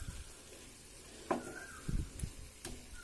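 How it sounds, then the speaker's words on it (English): Fried brinjal is stirred into an onion masala in a pan. There is a soft sizzle underneath and a few brief scraping and clinking stirs of the spoon against the pot, all fairly quiet and close. "We are mixing this brinjal in this onion mixture."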